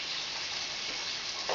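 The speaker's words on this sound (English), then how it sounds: "I got stuff burning off probably all the grease that's spattering from the chicken" Grease spattering and sizzling from chicken frying in a pan, a steady crackling hiss that holds for the whole moment at moderate loudness, with a slightly louder burst near the end and no talking.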